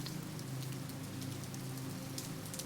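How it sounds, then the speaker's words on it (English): Rain falls in a steady, even rhythm, a dense continuous hiss with a faint low rumble, never pausing or changing in strength. "The last thing you hear is the steady rhythm of the rain"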